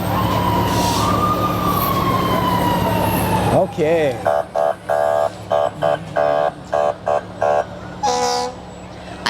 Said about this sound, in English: I believe that was a little jingle bell riff that we just heard. Jingle bells, fire department style.